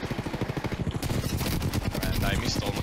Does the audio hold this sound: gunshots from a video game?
yes